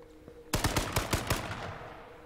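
Rapid burst of automatic gunfire in a video game, about seven sharp close shots in quick succession that end with a short fading tail.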